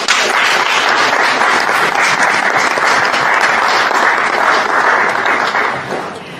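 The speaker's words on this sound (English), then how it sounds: "You can clap." A debate audience at a Jamaican political debate between JLP and PNP teams applauds loudly and steadily for several seconds, a dense burst of clapping that tapers off at the end.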